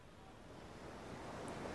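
Ocean waves washing onto a beach near the water's edge, a steady broad surf wash with a faint wind rush, rising slightly toward the end, with no voices.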